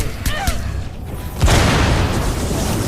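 A bomb goes off in the Roblox game Marvel Omega: one sudden, loud boom about halfway through, trailing into a sustained rumbling roar, with a little chatter before it.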